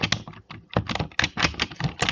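A computer keyboard clatters through a quick run of close, distinct keystrokes as a networking command is typed, uneven in rhythm and loud with no talk.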